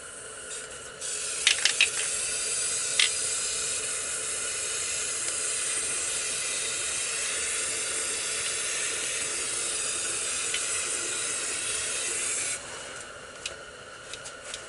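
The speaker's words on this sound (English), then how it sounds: "I'm going to take even darker gray, spray on my hands and let it drop." Steady hiss of an aerosol spray can held down for about eleven seconds, with a few faint clicks before it starts.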